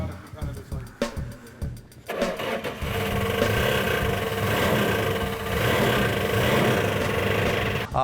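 A 1970 Plymouth 'Cuda V8 cranks over with a few coughing, stumbling bursts, then catches and settles into a loud, steady running rumble close by.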